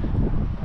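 Sea wind blowing onshore at about seven metres per second on a Spanish coast, a steady low buffeting roar with microphone rumble, continuous and fairly loud throughout with no other sounds.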